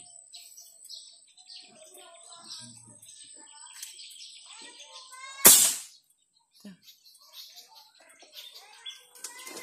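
A wild bird calls from a distant tree outdoors, thin intermittent chirps scattered across a quiet background with one sharp loud burst midway; no talking.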